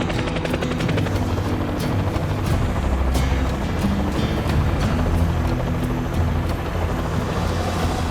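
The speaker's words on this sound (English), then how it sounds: "That is the unmistakable and quite wonderful sound of a helicopter." A helicopter's steady, heavy rotor thumping and engine roar fill the whole stretch, loud and constant as it passes close overhead.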